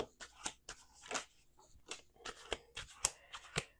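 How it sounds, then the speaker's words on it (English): A deck of cards is shuffled up close in a quiet room during a card reading, giving quick crisp riffling bursts in an uneven rhythm with short pauses between them. "Last shuffle."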